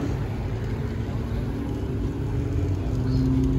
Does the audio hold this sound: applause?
no